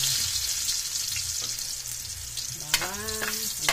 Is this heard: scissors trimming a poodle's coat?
no